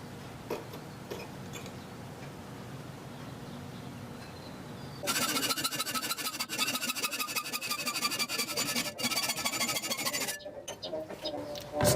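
A hacksaw cutting the contour of a wrench out of metal stock, quiet handling and scattered ticks at first, then a loud, rapid, rhythmic rasp of back-and-forth strokes that runs for several seconds before stopping, close up with no talk.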